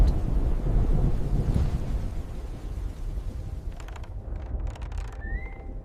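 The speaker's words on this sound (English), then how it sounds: "The rain had already soaked through Eliza's veil" Steady, heavy rain hisses with a deep rumble underneath, thinning a little toward the end as a faint creak and whistle appear.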